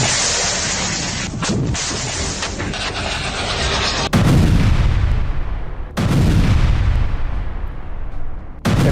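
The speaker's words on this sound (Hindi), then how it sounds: "हिजबुल्लाह के एंटी टैंक मिसाइल ने इजराइल के मेरवाका टैंक को ध्वस्त कर दिया।" Heavy explosive blasts from a Hezbollah anti-tank missile strike on an Israeli Merkava tank near the Lebanon–Israel border: loud continuous rumbling roar, then two sharp booming impacts with long decaying rumble, no talk.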